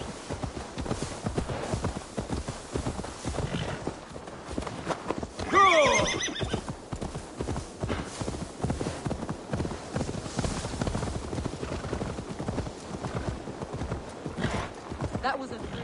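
In Assassin's Creed Valhalla, a horse's hooves clop in a constant rapid rhythm throughout, with a loud whinny rising out about a third of the way in.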